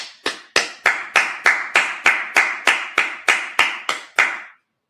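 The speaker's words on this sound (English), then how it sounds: "All right, let's clap it up." Hands clap in a slow, even beat at a Sabbath church service, about fifteen sharp, close claps spaced evenly and loud, then stopping abruptly into silence.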